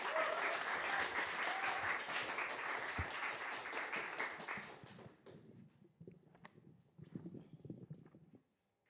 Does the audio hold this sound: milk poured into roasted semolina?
no